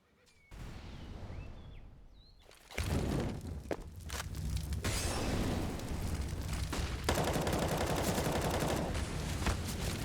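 Bursts of rifle gunfire from a Counter-Strike round on the Inferno map in an esports match, loud and dense after a quiet opening, sustained volleys with sharp single shots layered through game ambience.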